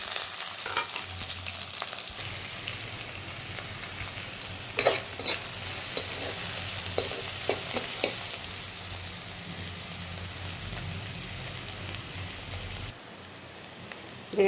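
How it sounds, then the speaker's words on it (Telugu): Two onions fry in a pan in a continuous rain-like sizzle, close and even, with occasional stirring clicks and a brief drop in level near the end. "ఇది 2 ఉల్లిపాయలు వేగినవి."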